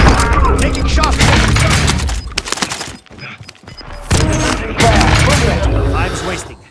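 Video game gunfire erupts in heavy, booming volleys with thuds and cracks. The loud, dense firing drops out briefly midway before surging again, with voice callouts mixed underneath.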